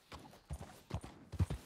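Horse hooves in Red Dead Redemption 2 video game thud in a quick, uneven gallop rhythm, four or five close, moderately loud footfalls with no voices over them.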